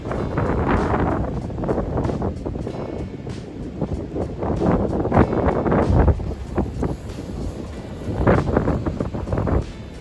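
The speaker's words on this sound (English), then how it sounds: "Breezy out here this morning." Morning breeze on the Appalachian Trail, gusting and buffeting the microphone in a steady broadband rush with surges and lulls, fairly loud and close throughout, no talking.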